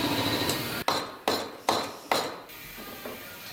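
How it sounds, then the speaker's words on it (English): Four sharp metallic hammer blows ring out at an even pace, each with a short ringing decay, close by and with no talking. "he's taking that hammer and hitting that hammer"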